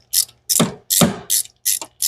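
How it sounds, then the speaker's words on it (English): A ratchet tightening a bolt on a turbocharged 460 Ford Mustang engine during top-end reassembly, five short close clicking bursts in a steady rhythm with nothing else heard. "So you put the bolt in, you tighten it up."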